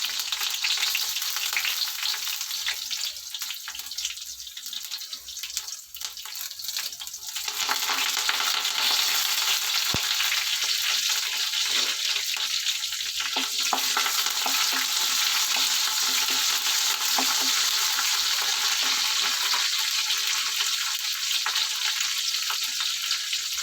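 Cumin seeds, dried red chillies and green chillies sizzle and crackle in hot oil for a lady's finger tamarind stew, a steady frying hiss that swells after a brief quieter moment and carries on without talk.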